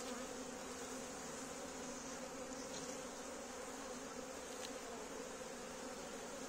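Honey bees drone steadily at a spring hive during an early-April colony expansion, with a soft, continuous, fairly faint buzz and no voices.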